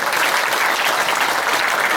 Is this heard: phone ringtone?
no